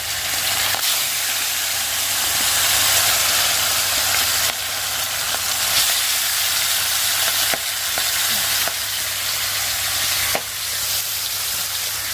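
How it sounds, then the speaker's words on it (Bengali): Bhetki fish fry in hot oil with a loud, steady, close sizzle and crackling spatter throughout, broken by a few sharp pops. No voices can be heard. "এইগুলো বোধ হয় ভেটকি মাছ এই মাছগুলোর অনেক তেল দেখা যাচ্ছে আর একদম ফুটে ফুটে যাচ্ছে"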